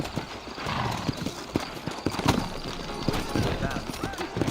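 In the video game Red Dead Redemption, hooves clip-clop in a steady, uneven rhythm close by, with a horse's whinny partway through and a voice speaking over it.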